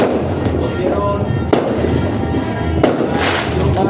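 New Year fireworks explode continuously nearby, a loud rumbling barrage with a few sharper cracks standing out over the constant roar.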